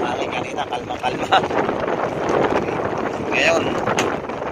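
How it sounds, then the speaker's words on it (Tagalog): Strong wind buffets the microphone aboard a boat at sea, a continuous loud rushing roar that swells and eases, with brief voices surfacing under it. "Malakas ang hangin."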